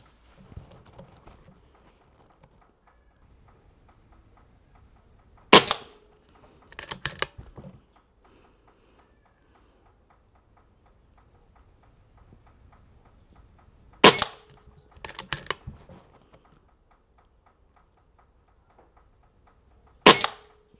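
A rifle fitted with a walnut stock fires three sharp, widely spaced shots, each followed by faint clicks, against a quiet background.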